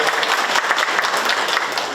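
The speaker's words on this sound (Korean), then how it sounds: "우리 저 향유님한테 박수 한번 쳐주세요" Dense, steady applause from a town hall meeting audience in Hoedeok-dong, Daedeok-gu, with many hands clapping at once, close and loud throughout.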